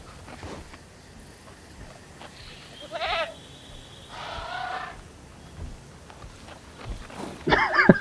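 Goat bleats from the video game Jurassic World Evolution, a couple of short nasal calls in the middle, then a sharper burst near the end, all over a quiet background.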